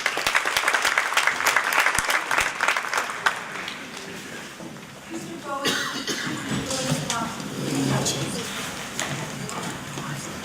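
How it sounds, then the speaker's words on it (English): An audience at a high school startup competition gives a round of applause, a dense burst of clapping that starts loud, then thins into scattered claps with crowd murmur and voices underneath. "Let's give her a round of applause."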